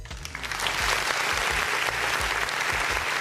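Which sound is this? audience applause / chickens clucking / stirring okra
audience applause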